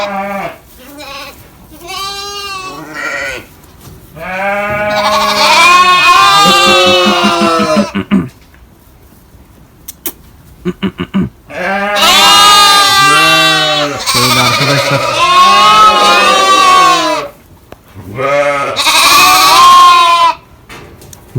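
Sheep and lambs in a barn bleat loudly and close by in repeated bursts, many overlapping calls of varied pitch, some high and wavering, with short quiet gaps between volleys.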